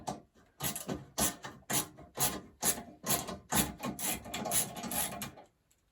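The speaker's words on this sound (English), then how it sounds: "I'm basically just removing the mounting bolt." Close, rhythmic ratcheting bursts, about a dozen in quick succession, then a stop, as a wrench works out the mounting bolt on a Sole treadmill.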